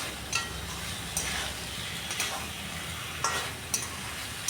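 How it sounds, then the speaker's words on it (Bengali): Mung dal and teasel gourd stir-fry with spices and a little sugar, a constant crackling sizzle with repeated scrapes and taps of a spatula against the pan at an uneven rhythm, close up. "চিনিটা দিয়েও আরও কিছুক্ষণ আমি কষিয়ে নিচ্ছি।"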